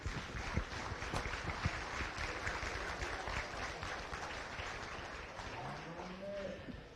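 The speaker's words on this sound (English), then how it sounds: "Let's go ahead and give all these exhibitors a round of applause," A crowd applauds the exhibitors at a county fair beef show, a broad steady wash of clapping that runs throughout at moderate level in a large open space.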